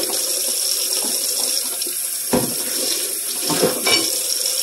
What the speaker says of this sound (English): Always heat your water up first, but not too hot.